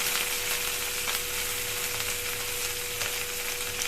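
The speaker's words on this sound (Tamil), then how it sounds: "இது எல்லாத்தையும் போட்டு நல்லா வதக்கலாம்" Urad dal and chana dal sauté in hot oil in a pan for a manathakkali keerai chutney, giving a steady, loud, close sizzle that keeps on without a break.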